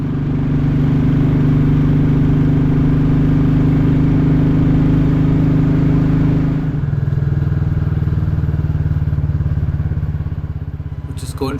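A Royal Enfield Classic 350 motorcycle out on a cold local ride, its engine thumping loud and close with a steady low throb that shifts in pitch partway through as the rider changes gear, with a wind rush toward the end.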